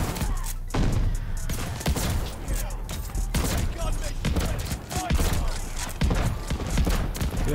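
Rapid shotgun blasts in Call of Duty: Vanguard, a dense string of sharp loud bangs roughly every half second with scattered impact thumps between them, mixed with other game noise.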